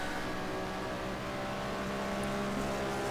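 A Corvette race car held in fourth gear at high revs, a steady loud engine drone with layered harmonic tones running continuously throughout, with no talk.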